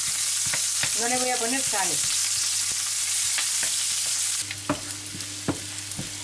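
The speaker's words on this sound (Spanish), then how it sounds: "En el mismo aceite vamos a poner los ajos y la cebolla cortada en juliana y la vamos a saltear" Garlic and julienned onion sautéing in oil over medium-high heat, giving a loud, continuous close sizzle with a few stirring clicks, as a voice speaks briefly over it.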